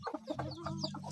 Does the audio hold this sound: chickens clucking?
yes